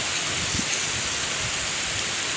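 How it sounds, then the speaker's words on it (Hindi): Heavy rain pours in a dense, steady hiss with no letup, striking the ground outside a house, close and without voices. "ये देखिए कितनी तेज़ बारिश हो रही है"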